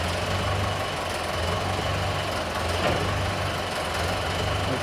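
A stationary baler's engine running steadily on a trial run, belt-driven from the engine pulley, a continuous close low rumble with an even idling throb and no break.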